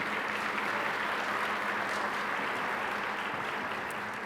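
A banquet audience at a scholarship awards celebration applauds a platinum sponsor, producing a sustained, even wash of many hands clapping at moderate distance for several seconds.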